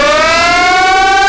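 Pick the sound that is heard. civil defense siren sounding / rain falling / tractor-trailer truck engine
civil defense siren sounding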